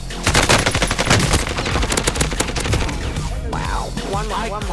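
Rapid automatic gunfire in the video game Call of Duty Warzone, dense bursts of shots up front that thin out toward the end, loud and close, with a player's voice briefly over it.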